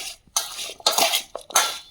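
Guava being mixed in a bowl, with several bursts of scraping and clattering against the bowl separated by short pauses, close and fairly loud.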